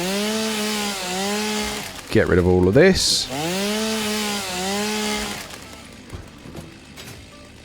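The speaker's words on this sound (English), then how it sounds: "So, out with the chainsaw again to clear the path." Chainsaw in Satisfactory cutting through plants to clear a path, a buzzing whine that rises and falls in a few bursts, with someone talking over much of it.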